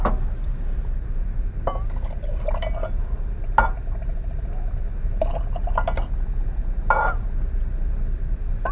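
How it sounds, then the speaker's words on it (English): Hot water poured into a glass jar to dissolve borax, a steady liquid wash broken by a few sharp glassy clinks and drips, close and alone without any talk. "I'm going to fill my jar with water about up to here"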